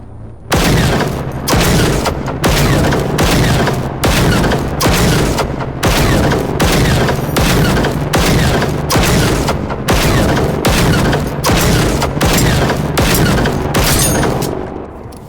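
Rapid bursts of weapon fire in the video game Generation Zero, loud and sustained, with repeated volleys separated by brief gaps and no talk over them.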